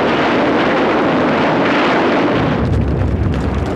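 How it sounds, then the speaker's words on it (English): A heavy, sustained roaring blast from explosives and fire clearing cave and dugout entrances in WWII Pacific war footage, loud and dense throughout with a rumbling low end. "Every cave or dugout entrance had to be blasted by flamethrowers, grenades, and explosives."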